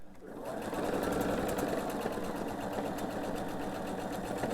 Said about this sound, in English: And sew the length of this seam.